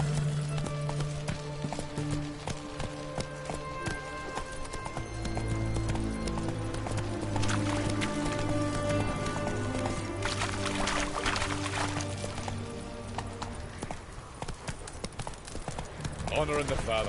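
Roach, the horse in The Witcher 3, moves with rhythmic hoofbeat clip-clops close by, mixed with game music and someone speaking over the steps.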